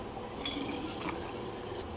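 Hot homemade Worcestershire sauce poured into washed glass jars, a soft steady liquid trickle and splash close by with faint clinks, no talking.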